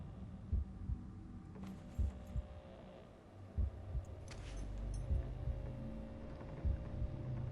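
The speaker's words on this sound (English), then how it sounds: "Why am I still hearing this heartbeat?" A low, dull heartbeat pulses at a steady, slow rhythm in a horror video game demo, soft and muffled under a constant droning hum and faint ambient noise.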